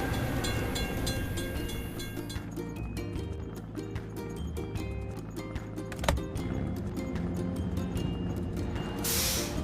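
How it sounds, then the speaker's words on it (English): Cartoonish train passing a closed crossing gate in a kids' truck video game, a continuous rumbling rattle with rhythmic clacking and a busy music-like backdrop, ending in a brief hiss. "We have to wait for the train to pass."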